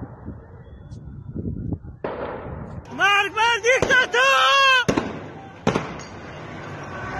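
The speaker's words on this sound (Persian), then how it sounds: "صدای تیراندازی چهارم آبان سنندج." Gunfire during street protests in Sanandaj, Iran: sharp cracks ring out among a crowd's loud, rhythmic chanting, with scattered bangs before and after.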